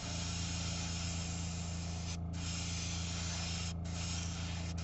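Cleaner is shot through a hobby airbrush used for miniature painting, a steady close hiss with two brief pauses in the spray.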